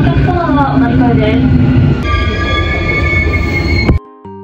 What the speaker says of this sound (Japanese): そして列車は西谷からすぐに羽沢横浜国大に到着です。